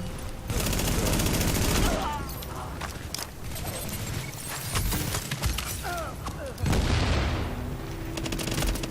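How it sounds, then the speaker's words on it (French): Gunfire in the Tom Clancy's The Division video game, rapid bursts of shots and impacts with some crashing debris, heard under someone talking and game voices. "Il y en a encore un qui me tire dessus"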